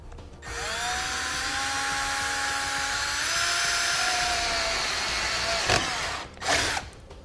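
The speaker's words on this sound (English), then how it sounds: "I'm going to come in with somewhat of a small drill bit and drill myself a pilot hole" A power drill whines steadily at high speed for several seconds as a small bit bores a pilot hole, then stops with a brief clatter.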